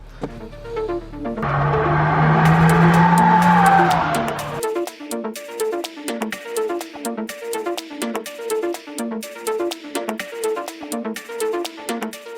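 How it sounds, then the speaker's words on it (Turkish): A Skoda Scala on the road, its engine roaring loudly as it accelerates hard for a few seconds before settling into a quieter, steady rhythmic background with regular ticking pulses. "Evet Skoda'nın skalasıyla yola çıktık. İyi be. Gaza oturduğum an alıp başına giden bir arkadaş var bizlerle."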